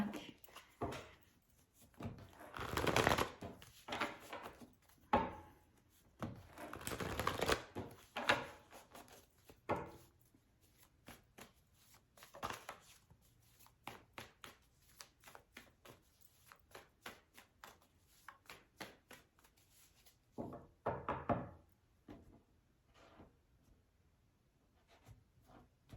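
Tarot cards are gathered up and shuffled by hand, bursts of riffling and slapping card noise in close, quiet surroundings, with louder shuffles near the start and a final burst near the end.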